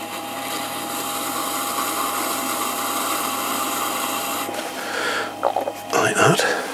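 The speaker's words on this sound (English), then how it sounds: "we're going to trim that all the way down to the wheel" A potter's wheel spins with a steady motor hum while the base of a clay mug is trimmed. The hum continues for several seconds, then gives way to a few close scraping and handling noises.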